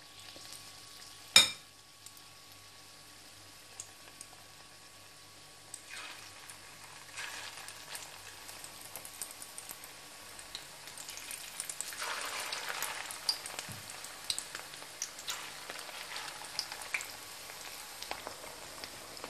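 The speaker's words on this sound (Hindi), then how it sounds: "अब ये तेल गर्म हो गया है तो हम इसके अंदर पकोड़े बनाकर डालते हैं" Chicken pakoras frying in hot oil, a faint, steady sizzle with soft crackles and pops, opening with a sharp clunk as the batter goes into the pan, no voices.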